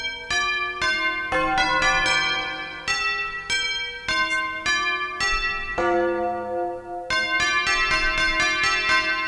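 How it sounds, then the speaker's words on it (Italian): Synthesized bell tones from a Korg M1 synth on iPad ring out in a repeating sequence of struck chimes with lingering, shimmering decay, played alone without any talking. "Ecco la campana."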